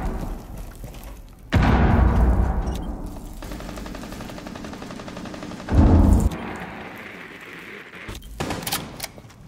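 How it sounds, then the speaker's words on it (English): In a video game, a frag grenade explodes with a heavy boom, followed by bursts of gunfire, a second blast a few seconds later, and scattered shots near the end. "Throwing frag grenade."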